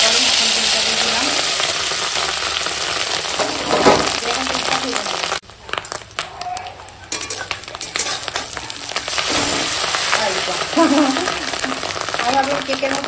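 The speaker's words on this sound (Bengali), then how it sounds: "তেল হয়ে গেছে গরম, এখন ডিমটা দিয়ে দিলাম।" Fish roe coated with salt and turmeric frying in hot oil in a wok, giving a steady, loud, crackling sizzle that dips sharply for a moment midway before surging back to full strength.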